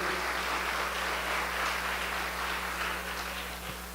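Church congregation applauding, a steady sustained clapping over a low hum that tapers off slightly at the end.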